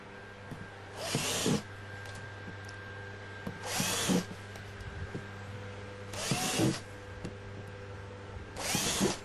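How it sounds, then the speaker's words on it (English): A power drill whines in four separate bursts about every two and a half seconds, drilling holes for sheet metal screws in a planter, each lasting under a second, with quiet handling noise between. "we're going to now drill 4 holes"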